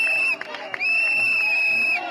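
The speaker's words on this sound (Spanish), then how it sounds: "No le gustan los silbidos" Crowd at a Spanish government campaign event whistling and booing at a politician: one long, shrill, sustained whistle rides above a dense, restless crowd roar for about two seconds.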